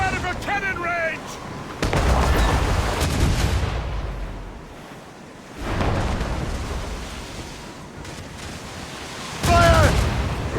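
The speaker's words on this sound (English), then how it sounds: "Keep out of her cannon range!" Ship cannons in the Assassin's Creed Rogue naval battle fire in heavy booming volleys, several loud blasts with rumbling decay, separated by quieter stretches of battle ambience and shouted orders.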